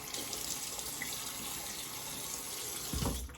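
Tap water runs in a steady, even rush as the face is wetted before a shave with a traditional safety razor, with a low thump near the end.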